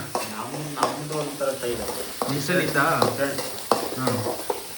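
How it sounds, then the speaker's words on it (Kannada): Green chillies frying in hot oil in a home kitchen for egg rice, a steady crackling sizzle with stirring scrapes, close up, while people talk over it. "ಮೆಣಸಿನ್ಕಾಯಿ ಫಸ್ಟೇ ಹಾಕಬೇಕು, ಎಣ್ಣೆಲ್ಲ ಕರಿಬೇಕು."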